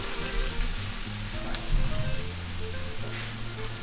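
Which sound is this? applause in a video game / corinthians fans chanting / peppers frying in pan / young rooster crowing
peppers frying in pan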